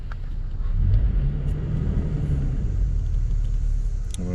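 A Toyota Tacoma pickup truck rolling forward, heard from inside as a steady low engine and road rumble at a moderate level, with a light click near the end.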